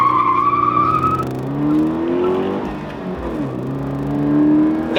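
Toyota 86 facelift with manual gearbox drifting on a public road, engine revving and rising in pitch with long continuous tire squeal, loud and close, no talk.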